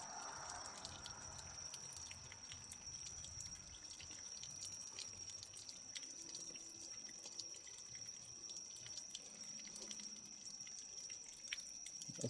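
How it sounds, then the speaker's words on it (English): Water drips and trickles steadily from a John Deere Model M tractor after a temperature line sensor is loosened. The flow is a constant, moderately close wet patter with no talk over it. "All kind of water coming out."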